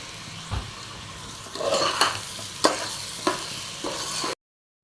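Rice sizzles and crackles in hot oil while a utensil scrapes and stirs the pan in several distinct strokes, close up with no talking.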